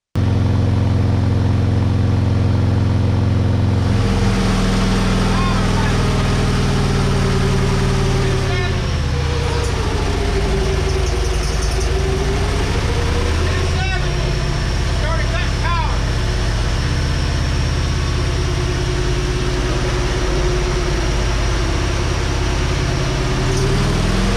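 Motorcycle engine at high speed near 270, its power dropping off; a loud continuous roar with strong wind buffeting and a shifting pitch that sags in the middle, no clear speech.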